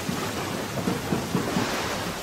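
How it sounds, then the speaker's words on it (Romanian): Stormy night with rolling thunder and steady heavy rain, a dense continuous roar with low rumbling swells throughout, no voices. "Vântul bătea și vuia în jurul casei înfiorător, încât la început a crezut că e doar zgomotul furtunii."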